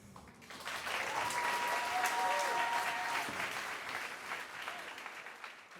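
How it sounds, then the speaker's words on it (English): Audience applause at a worship gathering, a sustained wash of clapping that swells quickly and holds steady before tapering, with a faint voice running underneath. "Big round of applause for Pat."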